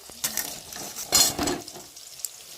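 Crushed garlic and slit green chilies fry in oil in a wok, a soft sizzle broken by a few scraping stirs of a metal spatula, close and fairly quiet.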